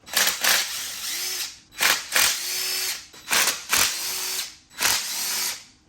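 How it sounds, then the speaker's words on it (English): A power drill with a socket removes bolts on a supercharged LT4 Camaro ZL1, whirring in four short bursts, each revving up and winding down, with brief pauses between and a slight ratcheting rattle as it spins. "I'm gonna use a drill to quickly take them off."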